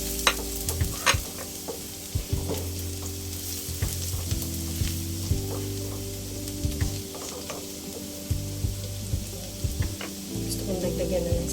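Plenty of garlic browning in a pan for shrimp fried rice, a loud steady sizzle broken by repeated scraping stirs, with a voice faintly in the background.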